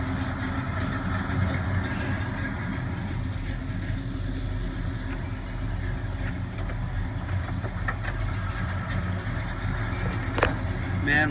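Rumbling idle from a 1966 Chevrolet Chevelle SS396 fitted with a 450 hp ZZ454 crate V8, a steady low burble running evenly throughout with no revving, close by and moderately loud.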